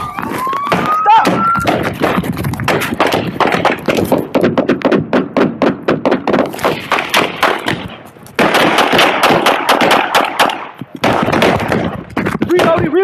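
Gunfire in a police shootout, rapid bursts of loud close shots in dense runs, with shouting voices mixed in between volleys.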